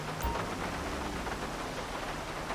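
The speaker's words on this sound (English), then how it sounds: "it is night time and it is raining" Nighttime rain in GTA 5, a steady soft hiss of rainfall across the whole stretch, fairly faint and even, with no speech.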